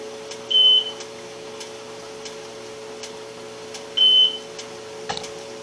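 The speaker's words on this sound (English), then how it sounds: "Now we start the timer for 30 minutes." A timer used while dry canning potatoes on a stovetop emits two short beeps a few seconds apart, with faint steady ticking and a low hum in the background.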